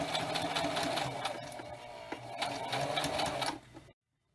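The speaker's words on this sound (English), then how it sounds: "You're going to start to sew, and then you're going to go backwards to lock it, and then I do it very slow." A sewing machine stitches slowly and then runs backwards to lock a seam on a spirit doll, giving a steady close whirring and needle rhythm that stops abruptly near the end.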